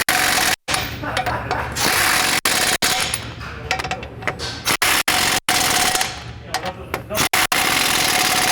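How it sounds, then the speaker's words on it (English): Ratchet with a 21mm socket tightening factory bolts during a lift kit install on a 2020+ GM 2500 truck, with rapid repeated mechanical clicking in bursts, broken by brief gaps, loud and close. "And then tighten those up with your 21mm socket."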